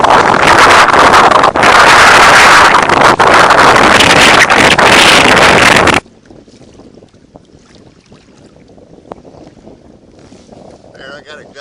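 Strong gusting east wind buffets the microphone while paddling a small fishing boat back toward the dock on Lake Miona, roaring loudly for several seconds before dropping to a faint, quiet background.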